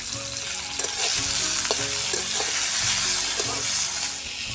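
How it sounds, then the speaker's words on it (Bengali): Salted chopped tomato frying in a kadai, a steady close sizzle broken by soft repeated scrapes and knocks of a spatula stirring. "টমেটোটাকে ভালোভাবে ভেজে নেব।"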